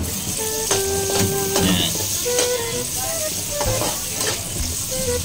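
Onion, ginger and garlic sizzling in a pan, a steady frying hiss with occasional clinks of a utensil stirring, while someone speaks briefly at the start.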